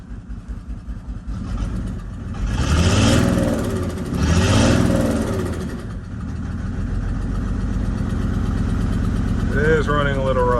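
A 1996 Mercedes-Benz G300 G-Wagon with an OM606 diesel engine idles a little rough, giving a close, steady low diesel clatter that swells twice in revs, while people talk over it.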